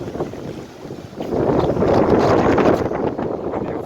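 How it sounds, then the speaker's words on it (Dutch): Strong wind buffets the microphone on the rocky False Bay coast along Clarence Drive, a loud continuous roar that swells and gusts harder partway through. "Die wind is zo sterk."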